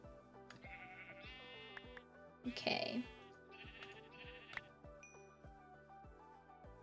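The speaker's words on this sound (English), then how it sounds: "I'm just gonna kill some sheep." Sheep in the video game Minecraft bleat repeatedly in short wavering cries, close and clear, with a voice briefly heard in between.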